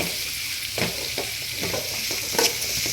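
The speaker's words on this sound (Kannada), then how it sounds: "ಫ್ರೈ ಆಗಲಿ ಚೆನ್ನಾಗಿ." Carrot, cabbage and capsicum fry in a pan for chicken fried rice, a steady close sizzle with occasional stirring scrapes and clinks throughout, no voices.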